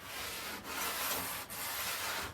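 Steady, close rasping of sandpaper rubbed back and forth over an antique wooden window frame in long strokes, with brief pauses between passes.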